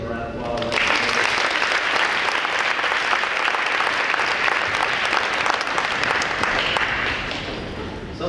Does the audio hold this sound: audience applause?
yes